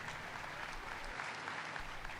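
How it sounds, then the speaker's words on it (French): Audience applause fills a hall at a church service, a dense, steady clapping that holds at an even level from start to finish with no voices on top. "Applaudissez pour Jésus-Christ."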